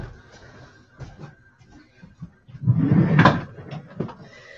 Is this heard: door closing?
yes